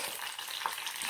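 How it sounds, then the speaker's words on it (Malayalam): Mustard seeds, a quarter teaspoon, crackling in hot oil while making a Kerala-style beetroot curry, a steady close sizzle with scattered tiny pops and no talk. "കടുക് എടുക്കുന്നത്. അത് പൊട്ടിച്ചെടുക്കാം."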